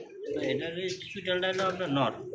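Sky-blue Rajgolla pigeons with pot-shaped necks coo at a pigeon sale. Deep, rolling coos repeat close by, and a voice talks over them.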